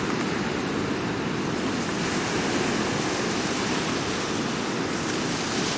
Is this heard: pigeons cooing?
no